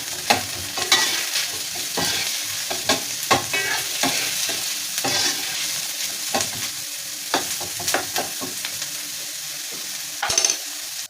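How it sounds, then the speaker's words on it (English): Garlic and carrots fry in about two tablespoons of oil for fried rice, with a continuous bright sizzle and repeated scraping stirs and light utensil taps against the pan, close and fairly loud, with no talking. "And then we're gonna add our garlic plus our carrots together. And we are gonna let them fry."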